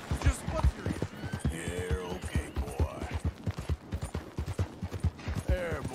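Rapid, rhythmic hoofbeats of a small horse galloping in Red Dead Redemption 2 pound steadily and close throughout, with someone talking over them.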